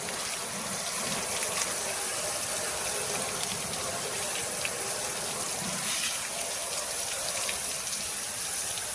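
Steady broadband hiss of a water spray hitting the frame and floor underside of a truck during a rust-prevention wash, continuous and fairly loud with no talk.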